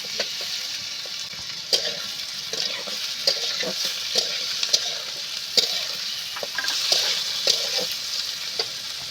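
Chola bora mixture with green chillies and chopped tomatoes being stirred in a frying pan: a steady, close sizzle under a string of distinct spatula scrapes and knocks, with no talking.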